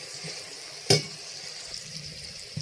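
Spice masala with a little water sizzles softly in a pan for tilapia in mustard curry, a steady low frying hiss broken by one sharp clatter of a utensil against the pan.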